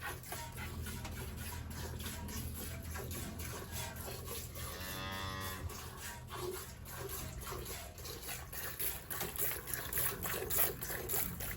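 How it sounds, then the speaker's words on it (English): Milk streams into a pail while a Dexter family milk cow is hand-milked in a barn, a steady close trickle-and-splash texture running throughout with faint background noise. "Somebody hears the sound of milk."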